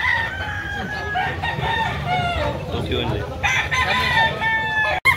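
Gamefowl roosters crow repeatedly with clucking in between, close and loud against a busy yard background, while people talk over them.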